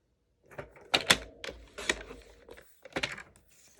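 Cardstock is cut to size on a paper trimmer with a series of short, crisp clicks and sliding scrapes, close and fairly quiet, arriving in uneven bursts over a few seconds.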